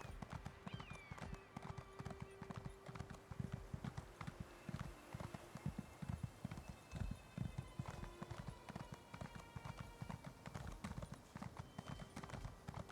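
Steady, fast clip-clop of horse hooves in the Elder Scrolls Online game, a continuous rhythmic patter of many close hoofbeats filling the whole stretch with no pauses.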